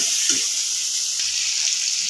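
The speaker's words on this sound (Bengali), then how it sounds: "এটা দিয়ে আমি এই যে ভালো করে নেড়ে চেড়ে কষিয়ে নেবো" Spices with turmeric stirred and sautéed in a pan for rohu fish curry with potatoes, giving a continuous bright frying hiss with a few soft stirring knocks.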